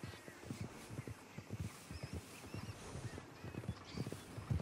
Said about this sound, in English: Look there, a wagon.